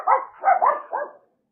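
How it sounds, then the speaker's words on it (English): A dog barks at a passing neighbor's dog in a quick run of four close, fairly loud barks lasting about a second, then stops. "they're barking because the neighbor is coming by with her dog"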